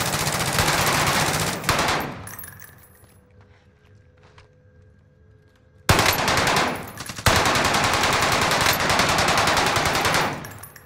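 Sustained loud bursts of automatic gunfire in the Call of Duty: Modern Warfare video game, a long rattling stretch, a quieter gap with faint sounds, then more continuous heavy firing, with no talking.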